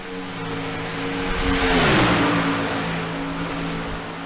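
Race cars in a tight lead pack at Talladega in a racing video game sweep past with a loud engine drone that swells and drops in pitch as they pass.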